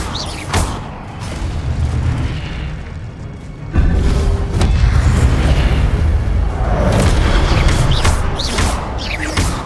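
In the Hogwarts Legacy video game, a loud Incendio fire spell bursts with a booming blast, followed by a sustained roaring rumble of flames and scattered crackling impacts; no one speaks.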